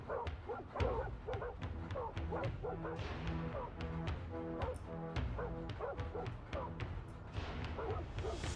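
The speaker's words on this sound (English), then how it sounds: "Holy shit, these dogs are unstoppable." Dogs in the video game Soulstone Survivors bark in rapid, repeated yips and woofs throughout, layered over busy game music and combat effects at a steady loud level.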